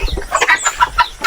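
Native hen clucking on a small mini farm, a run of short repeated clucks and calls at close range, alone without talk, with a steady rhythm of brief bursts.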